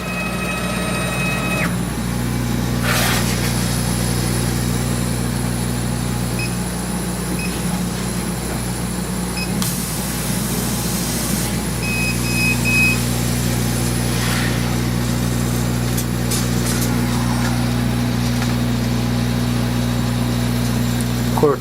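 A CNC laser cutting machine working on thick metal plate, a steady loud mechanical hum with droning tones and occasional hissing bursts, continuous throughout, with someone talking now and then.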